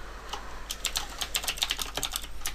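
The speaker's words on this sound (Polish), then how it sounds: "tutaj wpisać ręcznie temat" Fast manual typing on a computer keyboard while writing a message subject in the TeamSpeak 3 chat program, a steady run of close, crisp key clicks heard on their own.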